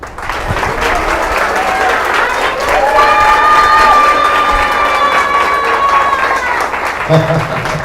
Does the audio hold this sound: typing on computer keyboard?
no